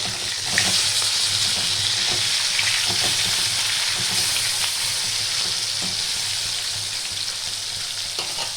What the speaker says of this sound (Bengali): আমি মাছগুলো একটু ভালো করে ভেজে নেব। এবার উল্টিয়ে দেবো।